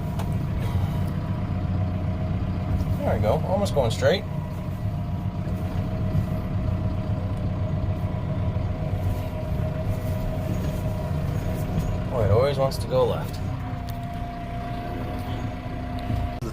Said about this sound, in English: The tractor.